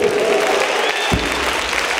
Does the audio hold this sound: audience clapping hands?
yes